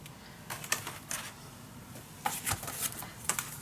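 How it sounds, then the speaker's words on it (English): Scrapbook paper being cut along its edges for an ocean-themed mini album, a few crisp snipping and rustling bursts close by over a low background hiss. "Now I am going to cut the edges nicely."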